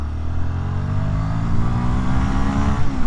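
A Royal Enfield Guerrilla 450 motorcycle accelerating hard on the road, its engine note climbing steadily in pitch through the gears, loud and close, with a steady rumbling drone and no talking.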